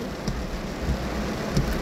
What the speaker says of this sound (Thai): ฝนตกมากเลยนะคะ